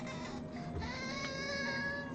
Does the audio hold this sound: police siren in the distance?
no